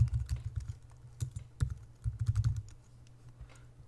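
Someone types a title on a computer keyboard, producing quick, uneven clusters of close key clicks that taper off into sparse taps.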